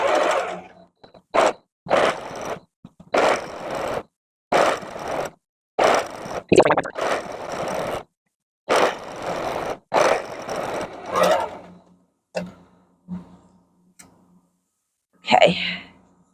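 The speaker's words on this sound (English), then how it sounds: "I'm going to stitch this close to 1/4 of an inch" A sewing machine stitches fabric for a homemade dog bed in short bursts of a second or so, separated by pauses, close by and fairly loud, with fainter brief handling sounds near the end.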